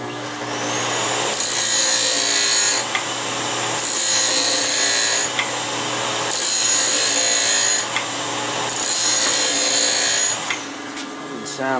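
A swing arm skate sharpening machine (SSM 2) grinds a figure skate blade in four repeated passes, each a loud, harsh rasping sweep of a few seconds over a constant motor hum.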